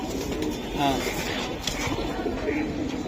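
Coos of a pigeon chick, a cross between a Silver cock and a Beji hen, sound softly and briefly amid steady background noise while people talk nearby.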